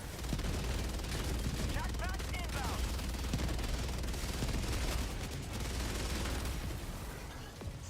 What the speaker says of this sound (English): I'm currently suppressing it with sentries.